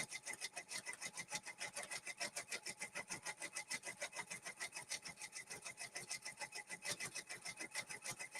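A Brother embroidery machine stitching a design onto a cap, its needle hammering in a fast, steady, even rhythm close up, with a faint mechanical whir beneath and no voices.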